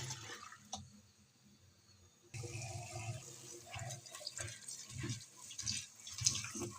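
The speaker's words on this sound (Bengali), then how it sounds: "কাচ্চি মাছের শুটকিগুলো ভালো করে ধুয়ে পরিষ্কার করে দিতে হবে।" Tap water runs and splashes in a sink while dried kachki fish are rinsed and washed, a soft steady flow that grows louder partway through, with light handling noises.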